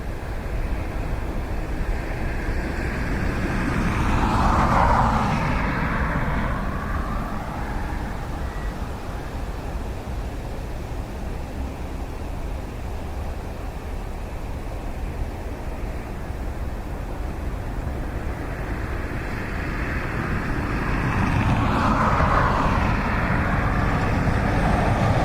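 Passenger airliner landing on runway 28L at Dublin Airport in a gusty crosswind, a broad continuous engine roar that swells early, eases through the middle and rises again near the end, heard from a distance with no talk.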